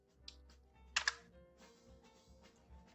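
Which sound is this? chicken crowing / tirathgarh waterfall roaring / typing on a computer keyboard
typing on a computer keyboard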